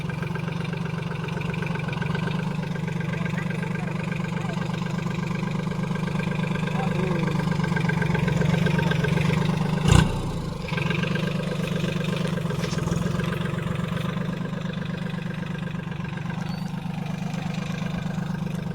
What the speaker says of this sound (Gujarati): હાવ નાનકડું ટ્રેક્ટર છે